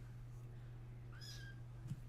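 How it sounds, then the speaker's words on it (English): A house cat gives a short, rising meow indoors, heard clearly over a steady low hum, with a faint extra chirp near the end. "Do you guys hear the little meows?"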